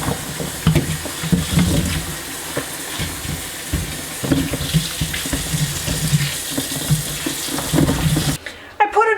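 Tap water runs into a cleaned kitchen sink being filled halfway to wash tomatoes, a steady splashing rush with sloshing and bumps, ending as the flow cuts off near the end.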